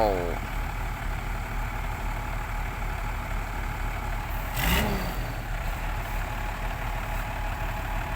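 A ten-wheeler sugarcane truck stuck in mud at a farm, its diesel engine idling and rumbling steadily as it backs out, with a brief louder burst midway and people talking over it.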